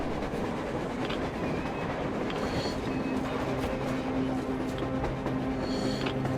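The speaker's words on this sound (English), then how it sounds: "A train! A damn train on the surface!" A train rolls past on the surface in the game Metro Exodus, a steady rumbling clatter of wheels on rails with faint metallic squeals, moderately distant and continuous.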